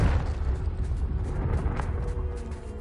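Confringo blasting spell explosion in the video game Hogwarts Legacy, a deep rumbling boom that lingers as a sustained low roar with faint crackles, moderately loud and with no voices.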